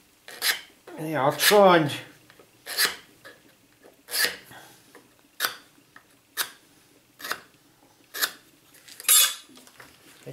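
A hand scraper working across MDF in repeated short, sharp rasping strokes, close and fairly loud with pauses between passes, and a few words spoken between strokes near the start.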